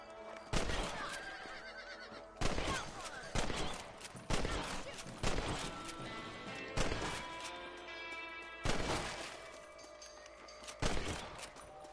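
Rifle shots at rabbits in Red Dead Redemption crack out one after another, about nine loud, close reports spaced a second or two apart over game ambience and music.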